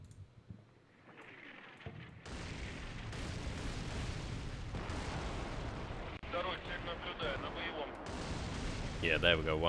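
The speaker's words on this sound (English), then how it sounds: "That comes in 30mm fire." Rapid 30mm cannon fire in the wargame Combat Mission: Cold War during a motor rifle regiment river assault, sustained pounding bursts with rumbling impacts, moderately loud and rising toward the end, with someone talking over it.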